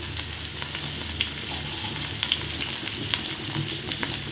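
Onions and green chillies fry in oil for a fish curry, a steady close sizzle with occasional light pops and clicks of stirring throughout.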